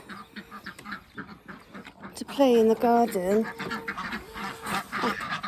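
Ducks quack in a short, loud burst of several calls, with a person talking before and after.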